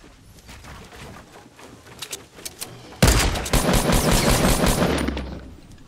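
Gunfire in the video game Fortnite: scattered, fainter shots at first, then from about the halfway point a loud, sustained burst of rapid automatic fire.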